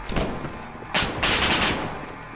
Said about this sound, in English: I hear that Remington.